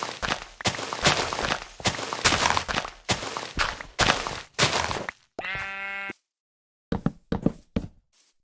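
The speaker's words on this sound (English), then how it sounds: "I acquired a sheep and gave it a lovely little pen." Sheep bleat in Minecraft in a rapid series of loud, close, choppy bleats, then a short pause, a tonal game chime and a few more scattered bleats at the end.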